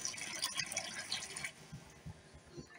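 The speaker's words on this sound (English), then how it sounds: "we want to pour at least a couple of cups of hot boiling water down the drain" Hot boiling water poured down a slow-running drain, a continuous splashing, gurgling pour close by with a few louder glugs, no talking.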